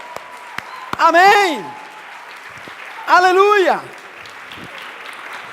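A church congregation applauds continuously in a steady broadband wash while a voice shouts two drawn-out exclamations over it.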